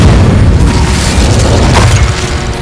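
An Incendio fire spell from Hogwarts Legacy during a fight with poachers, heard as a sustained loud roaring, whooshing rush of flame with booming bursts throughout.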